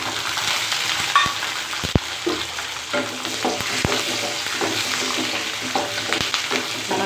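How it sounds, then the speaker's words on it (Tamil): Garlic and black pepper sautéing in a pan for a ginger curry, a steady dry sizzle with close stirring scrapes and occasional sharp clicks of the spoon against the pan throughout. "பூண்டு நல்லா வதங்கட்டும்."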